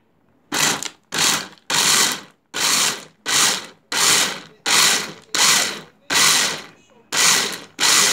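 A countertop blender mixing smoothie ingredients in short pulses, about eleven loud, close whirring bursts separated by brief silences.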